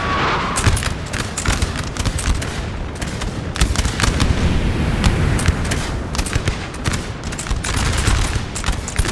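Cannon and musket fire in the Napoleonic battle game Napoleon Total War, with loud, dense volleys of crackling shots and deep booms overlapping continuously.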